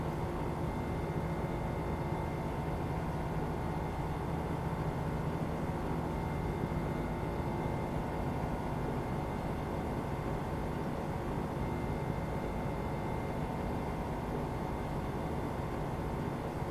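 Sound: airplane engine in flight, video game

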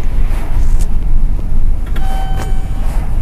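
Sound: Schindler elevator running in Roblox video game

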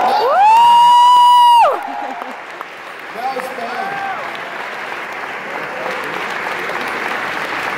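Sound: concert audience clapping and cheering

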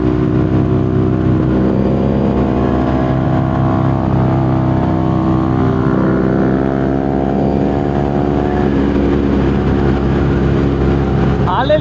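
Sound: Harley-Davidson motorcycle engine riding in first gear

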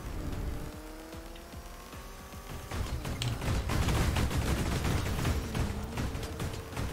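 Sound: side cannons firing in video game

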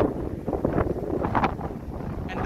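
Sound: strong wind during a sandstorm

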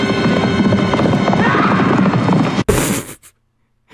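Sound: Black Riders' horses galloping and neighing in animated film

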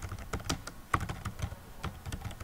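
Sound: typing a form name on a computer keyboard

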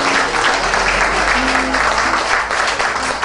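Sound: applause for class D at school reunion

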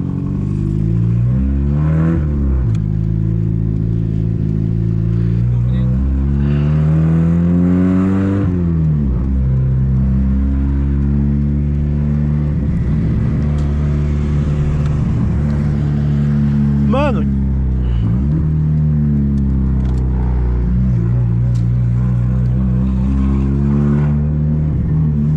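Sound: 1999 Honda Civic with straight-pipe exhaust revving and accelerating

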